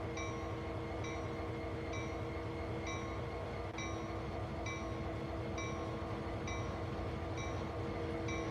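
A diesel locomotive in the Train Sim World 2 game hums steadily with its power raised, heard up close in the cab, while a soft warning tone beeps at a regular rhythm throughout.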